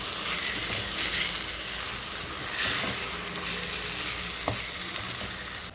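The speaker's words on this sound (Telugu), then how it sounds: "మనకు ఆయిల్ చేరే వరకు కూడా ఇలా కలుపుకుంటూ ఉండాలి" Chicken gongura pickle sizzles steadily in oil while being stirred, a continuous close frying hiss with occasional scrapes and a light clink near the end.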